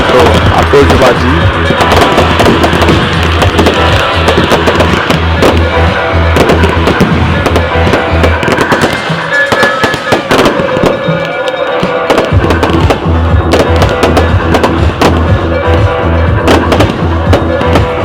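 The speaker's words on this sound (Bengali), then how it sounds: "অগণিত আতশবাজি।" New Year fireworks explode in a relentless barrage of loud cracks, booms and crackling bursts, with a brief lull midway before the dense volley resumes.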